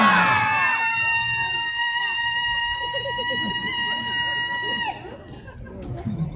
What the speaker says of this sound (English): Everyone's going to scream number 1.